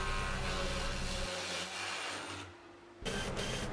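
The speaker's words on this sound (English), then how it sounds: "I'm priming the panels now with my little Graco Ultra Airless Sprayer." Graco Ultra airless paint sprayer priming panels: a loud, steady motorized buzz and hiss that drops to a lower hum partway through, then returns at full strength near the end, with no talk.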